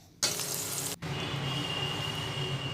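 Cauliflower and potato pieces fry in oil in a wok, making a steady close hiss and sizzle with a brief break partway through. No voices are present.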